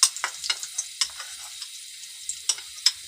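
Desi ghee meeting a hot pan gives off a sparse, faint sizzle, with soft crackles and pops spaced irregularly over a quiet background.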